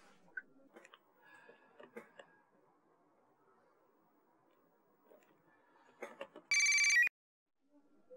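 A telephone rings once, a single short, loud electronic burst that cuts in after quiet rustling and small indoor noises in a home.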